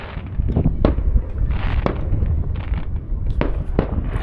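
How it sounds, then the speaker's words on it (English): Fireworks going off outdoors in Greece at dusk, a run of sharp pops and crackling bursts at varying distance, some loud and close, others fainter, with rumbling echoes between them. "They've even got fireworks."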